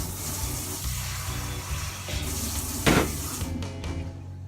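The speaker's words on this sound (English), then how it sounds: "I'll add more water to it, and then I'll give it a nice stir." Water poured into a pot of Nigerian party jollof rice: a steady, hissing sizzle and splash that swells briefly near the middle, close by, with no talking.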